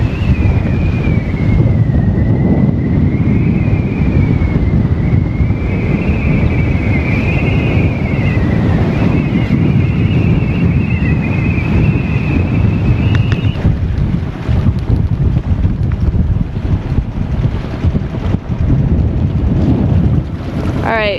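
Strong wind roars and buffets the microphone on a sailing boat off Australia's rugged coast, with water rushing along the hull and a whistling tone rising and falling for a time, loud and continuous with no talk.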